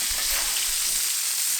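A butter-basted steak sears in a cast iron pan, giving a loud, close, continuous sizzle and crackle of hot fat without a pause.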